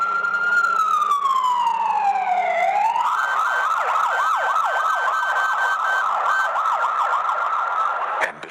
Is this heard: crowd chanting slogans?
no